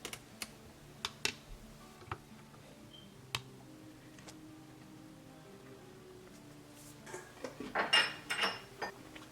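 A crock pot lid is lifted off Punjabi rice pudding (kheer) after eight hours of slow cooking. Sparse, sharp clicks come first, then a cluster of clattering clinks near the end.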